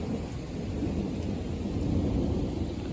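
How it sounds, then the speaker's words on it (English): Faraway thunder in a passing thunderstorm, a quiet sustained low rumble beneath steady light rain, with no voices. "I mean, the thunder's getting further and further."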